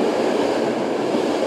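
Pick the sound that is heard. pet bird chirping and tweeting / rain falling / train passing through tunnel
train passing through tunnel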